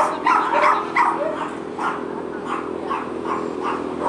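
Small dogs at an animal sanctuary, barking and yipping in quick repeated bursts, several voices overlapping at close range with whimpering between barks.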